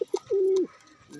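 Pigeons feeding on grain coo nearby: a couple of short soft notes, then one long, steady, throaty coo and a quieter coo starting at the end.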